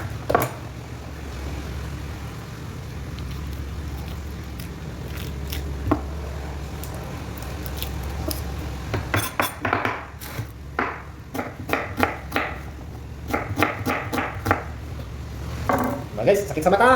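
Onions being chopped on a board for tuna paksiw, a soft preparation sound at first, then a run of quick sharp knife taps on the board in irregular bursts, close and distinct, ending with a few clustered strikes.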